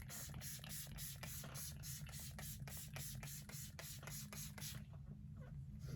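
A Wet n Wild SpongeBob setting mist spray bottle fires a rapid, even run of about a dozen short spritzes over a steady low hum, then stops. The sound is close and quiet, with no talking.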